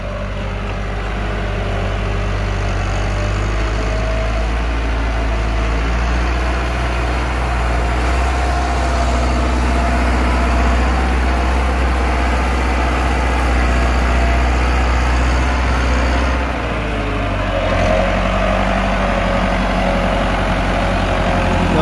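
A Massey Ferguson 385 tractor pulling a heavily loaded trolley up onto a road, its diesel engine holding a loud, steady low rumble under strain that swells slightly midway, close and continuous with no talk.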